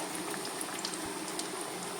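Chili and plantain bajji in batter frying in very hot oil, a dense, steady crackling sizzle close up and continuous without pause, with no voices over it.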